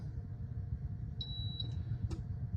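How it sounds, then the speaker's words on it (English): A Scholtes Schott Ceran hob's lock button gives a short, high electronic beep, followed by a second brief chirp, over a steady low hum in a quiet kitchen. "just press it for 2 or 3 seconds until it beeps"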